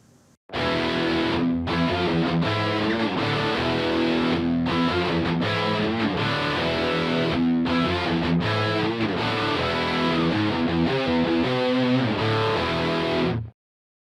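A full mix of reamped electric guitar tracks run through preamps and modelers plays continuously and loud, distorted and dense, with no talking.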